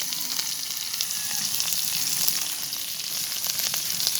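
Chopped garlic, onion and green chili frying in mustard oil, a close, steady sizzle with crackling bursts and no voices.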